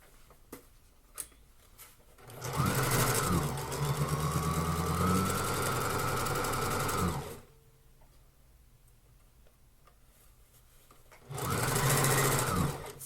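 Sewing machine running a straight stitch along a dress hem, a steady loud mechanical whir in two bursts: a long run of several seconds, a pause with faint handling sounds, then a second short run.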